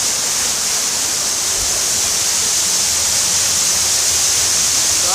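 Ermayi Falls pours down from high above at night, a loud, continuous, steady rush of falling water that fills the whole clip with no voices.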